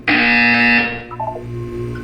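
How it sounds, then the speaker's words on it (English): A loud electronic buzzer sounds in the Portal 2 video game, a harsh harmonic tone held for under a second before cutting to a quieter hum. "You will hear a buzzer."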